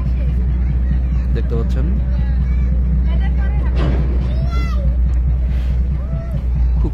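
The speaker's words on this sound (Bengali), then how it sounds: "ব্যাক গিয়ার দিয়ে দিয়েছে লঞ্চটি," Passenger launch boat engine running in reverse gear, a loud, steady low rumble that continues throughout while someone talks over it.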